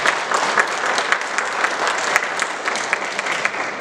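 A church congregation claps together in unison, a loud, steady run of rhythmic applause filling the sanctuary with sharp, regular beats from start to finish.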